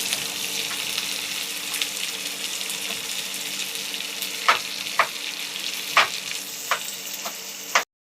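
Squash and vegetables sautéing in a pan make a steady oily sizzle, with several sharp utensil stirs and scrapes breaking through toward the end; no one speaks.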